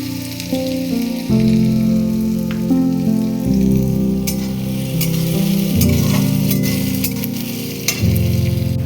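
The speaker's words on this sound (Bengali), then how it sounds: "পেঁয়াজটা একটু ভাজা হয়ে গেলে ওর মধ্যে আমি একটু রসুন কুচি দিয়ে দেব।" Onions fry in a pan with chopped garlic added, for a Bombay duck fish dish, producing a steady sizzle with scattered crackles, layered over loud, continuous low humming tones.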